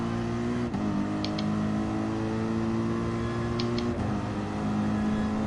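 Corvette race car in GT Sport at the Spa circuit, its engine a steady sustained drone with a shift in pitch near the start and again around four seconds, running continuously throughout.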